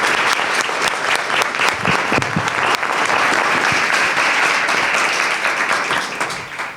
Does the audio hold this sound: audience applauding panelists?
yes